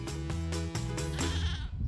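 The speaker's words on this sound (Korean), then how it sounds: "까만 흑염소들이 뛰어노는 흑염소 농장" Black goats on a goat farm bleat repeatedly in close, overlapping wavering calls, several animals crying one after another with no talk.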